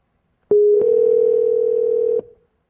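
Telephone dialing to call a lab in California: a single steady electronic tone of about a second and a half, clicked on and off, clear and close with no talk over it.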